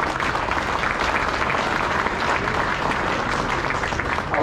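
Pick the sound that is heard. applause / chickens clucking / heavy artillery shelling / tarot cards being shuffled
applause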